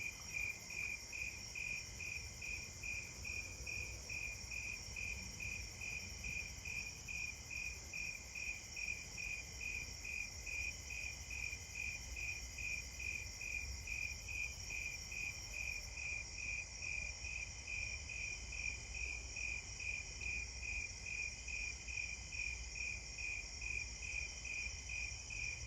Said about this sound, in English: I do think it's a Davis's because the pulses are more irregular and it's lower pitch